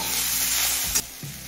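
Drumstick flowers and mixed vegetables stir-fried in a pan, a steady sizzle with a couple of scraping strokes of a spatula near the end, close and alone.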